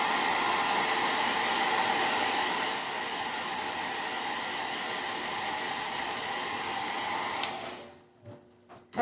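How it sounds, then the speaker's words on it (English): A handheld blow dryer blasts stencil paint on Halloween decor with a loud, steady close whoosh that shifts slightly midway, then cuts off near the end, leaving a few faint knocks. "I'm going to have to hit the blow dryer though"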